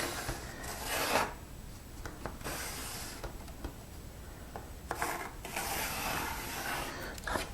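Faint scratchy rubbing strokes as edges are marked out on the underside of a wooden table top, in short uneven bursts with quiet gaps between.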